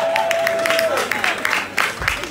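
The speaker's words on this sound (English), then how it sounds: "Clap for me." Brief applause from an audience at a company launch, a short burst of clapping that starts as a voice is still speaking.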